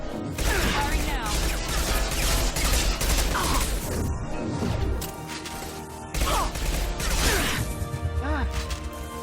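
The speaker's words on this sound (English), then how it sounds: "Firing now." Gunfire and impacts in the sci-fi shooter Mass Effect 2 crack out in dense, repeated bursts, mixed with crashing hits and game sound effects, loud and continuous over a short lull.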